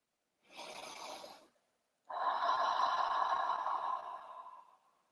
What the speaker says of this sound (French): Et on va respirer profondément 3 fois.